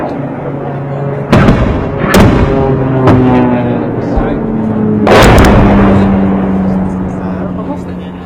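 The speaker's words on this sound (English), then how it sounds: "neutralize those vantage positions through our mortar fire" Mortar and artillery fire during an urban battle against ISIS in Marawi: several heavy booming reports, two especially loud, over a constant rumbling engine drone, with voices speaking.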